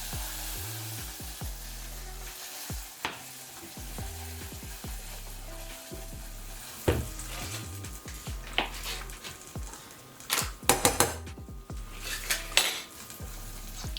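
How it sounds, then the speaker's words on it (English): A spoon scrapes and clanks against a pot while a cooking mixture is stirred and other ingredients go in, producing irregular metallic knocks over a soft sizzle, with a burst of sharper clattering near the end. "Keep stirring while you add the other ingredients"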